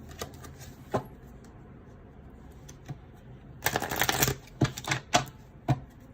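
A deck of tarot cards is shuffled by hand in close, crisp bursts of riffling and snapping, sparse taps at first, then a dense flurry of rapid card slaps.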